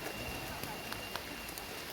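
Rain falls steadily outdoors at Seonunsa temple in Gochang during a flower festival, a soft, even patter with a few scattered sharper drops, faint and continuous.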